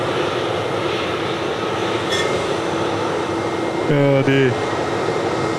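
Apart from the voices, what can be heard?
Jetstar airliner taxiing at Sydney Airport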